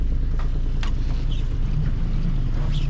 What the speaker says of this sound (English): Thankfully the engine started.